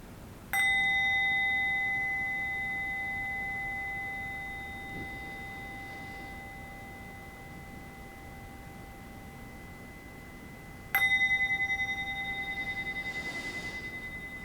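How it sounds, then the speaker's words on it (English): A meditation bell is struck twice, each strike ringing out clearly with a bright, sustained tone that slowly fades away over several seconds in an otherwise quiet room. "allow yourself to listen to the bell from beginning to end and to open your eyes when you're ready and you no longer hear it"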